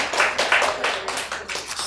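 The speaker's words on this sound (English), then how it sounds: "You don't have to applause every time" A handful of people clapping in a kitchen after a squash and chickpea curry is finished, brief uneven bursts of claps close by.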